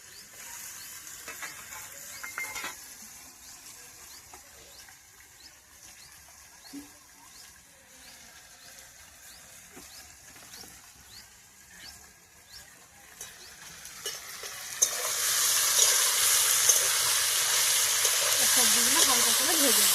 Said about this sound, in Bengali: মটরশুঁটিগুলো ভেজে নেবো একটু